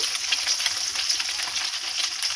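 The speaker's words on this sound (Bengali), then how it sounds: "এই দেখো, মাছ ভাজছি।" Pieces of rohu fish fry in a pan of oil with a continuous, close, fairly loud sizzle and crackle and no talking.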